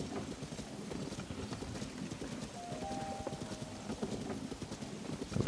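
Horse hooves clip-clop steadily in the video game Zelda: Tears of the Kingdom, a continuous moderately loud gallop with a brief tonal game chime partway through and no talk.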